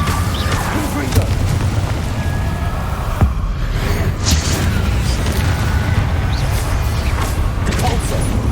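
Fire-spell blast from Confringo in the video game Hogwarts Legacy, a dense low booming rumble that runs continuously, with a sharp crack near the middle amid layered combat effects.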